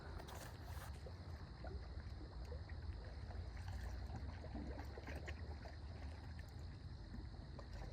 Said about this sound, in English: It's nice just to listen to the crickets and the waves.